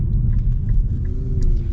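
A 2022 Infiniti Q60 Red Sport 400 engine rumbles low and steady from inside the cabin, its pitch shifting slightly as the driver downshifts, with no voices.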